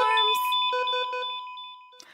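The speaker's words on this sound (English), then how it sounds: "It's hard to pay attention with all these alarms?" An electronic alarm sounds: a sustained tone, then a quick run of repeated beeps, then another short burst, fairly loud and clear with no one talking.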